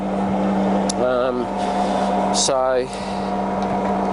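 A Colchester Student 1800 centre lathe hums steadily close by while running forward and reverse. Someone speaks briefly over the constant machine drone.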